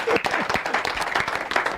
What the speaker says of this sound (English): make una clap for me